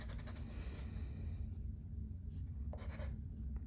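A Z letter is handwritten in a continuous, scratchy stroke sound with short pauses and quick restarts, close up and fairly quiet.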